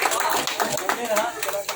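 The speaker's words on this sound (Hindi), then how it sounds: "ताली बजाते रहिए, ताली आप लोग बजाते रहिए" A crowd at a tilak ceremony in a village keeps up scattered applause, heard under a voice speaking loudly over a public address system through the whole short moment.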